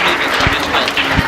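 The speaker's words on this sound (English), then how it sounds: "Clapping for them." A quiz audience at a Quaid Day talent hunt claps for a team that has just answered, producing a short burst of dense, steady applause with talking mixed in.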